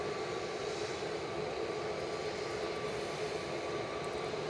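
A KLM Boeing 737-700 jet from Amsterdam at Manchester Airport gives a steady, faint, distant engine roar that holds evenly throughout without talk.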